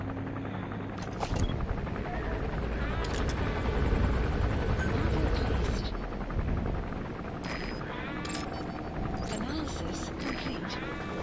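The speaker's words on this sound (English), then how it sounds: "There's a chopper landing." Helicopter landing in a video game, a loud, continuous rotor and engine roar throughout, joined by bursts of gunfire and other game effects, with game voices speaking over it.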